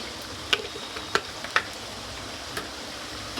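A Malabar spinach dish is stirred and mixed in a pan, giving a few sparse clicks and taps of the spoon against the pan over a quiet background, with no talking.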